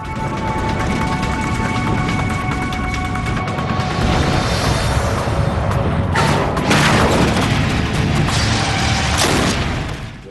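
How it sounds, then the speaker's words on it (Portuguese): A sudden heavy boom and crash strikes partway through as a Boeing 767's nose slams onto the runway, followed by loud rumbling and rattling over continuous roaring noise. "O nariz atingiu a pista com um estrondo, como um disparo de uma arma em nossos pés."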